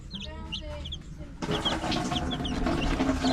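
Young Rhode Island and Dekalb White chicks peep in repeated high, thin calls near a brooder. The peeping grows louder and busier partway through as broadband clatter joins in.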